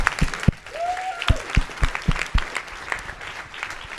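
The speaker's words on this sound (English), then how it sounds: "Clap as loudly as you like that talk." Audience at a business talk on growth claps after the speaker finishes, scattered individual claps close by with a brief whistle, uneven and thinning out over four seconds.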